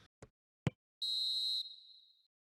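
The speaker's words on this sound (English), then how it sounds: "And the half-time whistle goes" A single shrill referee whistle for half-time in a PES 2021 football match, held for about half a second then trailing off, preceded by a few faint clicks in near silence.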